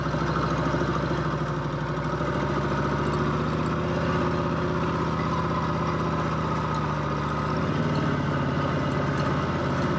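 A 1954 Harley-Davidson FH 750 motorcycle engine rumbles at low speed in first gear, a steady, loud, close putter with an even firing beat and a slight change in tone partway through.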